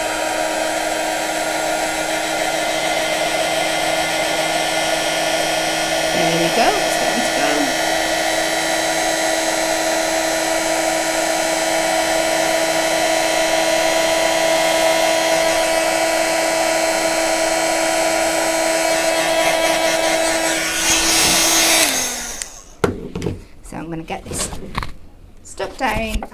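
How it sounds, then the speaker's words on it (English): A heat gun blows steadily for heat embossing on a card, a loud continuous whirring hum with a high whine, close by; it shuts off near the end, followed by brief handling noises and a few spoken words. "Pop on our heat gun."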